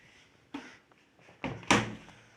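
A Hisense washing machine door being opened, heard as a few soft clicks and knocks followed by a louder thudding clunk of the door releasing, close by with no talking.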